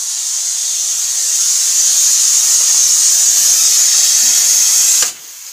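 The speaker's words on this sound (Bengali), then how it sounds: "এই যে প্রেশার কুকারে একটু আতপ চাল দিয়ে একটু ভাত বসাইছি" A pressure cooker hisses steadily while cooking sun-dried (atap) rice: a loud, continuous hiss that holds for about five seconds, then abruptly cuts off, leaving only a faint residual hiss.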